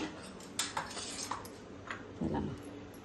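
Chicken pieces are mixed in a bowl with spices, two eggs, lemon, black pepper and flour for popcorn chicken, with soft, sparse spoon-on-bowl clinks and scrapes over a quiet room hum.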